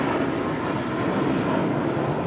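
A Boeing 747 rolling down runway 25 left at Los Angeles International Airport produces a loud, close, dense jet roar, continuous and powerful across the whole short stretch.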